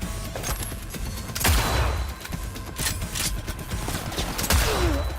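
Rapid gunfire from a firefight in Cyberpunk 2077, loud sharp shots and bursts repeating across the clip with heavier booming impacts mixed in.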